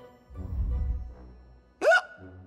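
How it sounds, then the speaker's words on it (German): A cartoon Green Goblin character from Marvel's Spidey and His Amazing Friends gives a single loud, sharp hiccup that rises in pitch, following a stretch of low rumbling background sound. "Na toll, jetzt habe ich Schluckauf."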